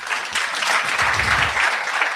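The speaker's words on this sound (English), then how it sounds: "A round of applause." A round of applause from a panel audience at the Digital Youth Festival Africa 2026. The clapping is brisk and close, filling the whole moment evenly without a break.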